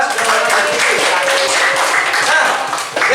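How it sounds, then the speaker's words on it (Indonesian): Dense, loud applause from an audience at a health education session, steady clapping throughout with voices mixed in. "beri tepuk tangan untuk kita semua ya"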